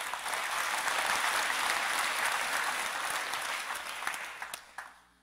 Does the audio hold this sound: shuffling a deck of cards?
no